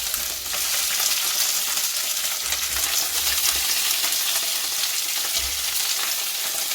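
Curry leaves and onions fry in a pan with a steady, close sizzle running throughout, with a few low thumps as the pan shifts or is stirred.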